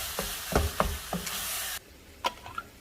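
Dried minced onion with salt and cracked black pepper is stirred in a pan. A few close, quick scraping strokes are heard over a light sizzle, then the sound drops to near quiet with one last brief scrape.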